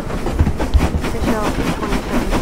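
A Stirling Single steam locomotive runs along the South Devon railway in Train Simulator, giving a steady rolling rumble with irregular clicks and thumps and faint hiss throughout the short stretch.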